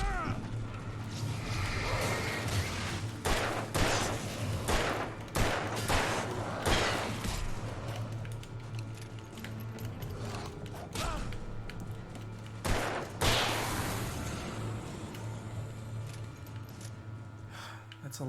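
Gunfire in the Alan Wake 2 video game: a rapid string of sharp shots in clustered bursts over a low steady background hum, loud and close, continuing intermittently throughout.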